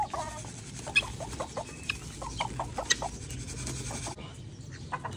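Several chickens cluck close by in quick, choppy bursts while being fed grain, with a low rumble of background noise and no talking.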